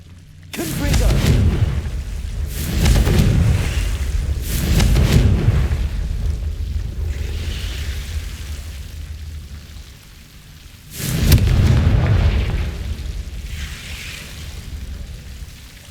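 Deep booming fire-blast spell explosions from the Confringo curse in the Hogwarts Legacy video game, four heavy low bursts spaced a few seconds apart, each with a rumbling tail, loud and close.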